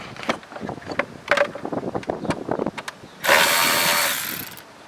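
A power tool removes bolts during a Mishimoto catch can install on a car, heard as a loud, steady whirring burst of about a second near the end, after several seconds of clanking and shuffling workshop noises.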